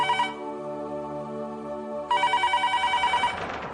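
A telephone rings with a repeating electronic ringtone in a household kitchen during morning prayers, a short burst of tones, a pause, then a louder run of rapid pulsing beeps before it stops; no one speaks.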